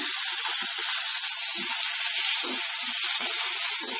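Tomato, ginger and garlic frying in a pan for spicy rice bath, a loud, continuous close sizzle and hiss with scattered crackles and pops throughout.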